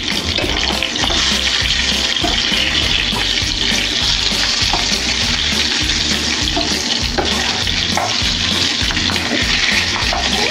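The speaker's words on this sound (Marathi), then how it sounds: "मस्त एक साईडने आपल्या मिरच्या आता भाजून झाल्यात मस्त तेलावर" Stuffed capsicum peppers fry in oil in a pan with a loud, continuous sizzle and crackle, close and dense, with faint scraping as they are stirred.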